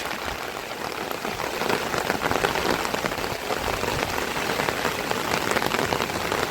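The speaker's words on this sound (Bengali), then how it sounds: "বৃষ্টিটা কিন্তু খুব জোরেই হচ্ছে" Heavy monsoon rain pours steadily at a rural railway station in South Bengal, a dense, continuous hiss of drops pattering on surfaces nearby, with no pauses.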